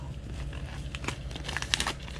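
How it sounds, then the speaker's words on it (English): Tape peels and crinkles off a Mazda Miata bumper after a DIY cut, a short close rustling strip-pull with sharp crackles near the end. "Take off our tape here so we can see what happened."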